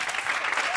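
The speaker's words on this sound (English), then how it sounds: "Give them another big round of applause, please." A brief burst of audience applause in a TV studio after a musical performance, dense clapping at a steady level.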